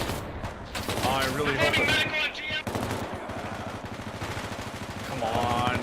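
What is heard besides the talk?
machine gun fire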